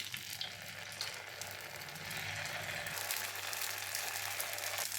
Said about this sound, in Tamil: இதில் இப்போ மாவை ஊற்றிட வேண்டியது தான்.